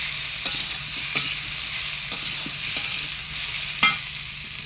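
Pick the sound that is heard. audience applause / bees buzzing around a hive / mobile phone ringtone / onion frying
onion frying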